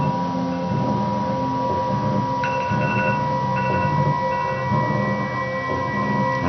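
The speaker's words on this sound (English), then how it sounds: "And that is my alarm." A meditation alarm goes off partway through, sounding as a series of clear chirping electronic tones in short repeated bursts over a steady background hum.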